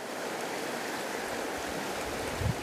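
A river flowing steadily, a continuous broadband rush of moving water, even and fairly loud throughout, with a brief low thump near the end.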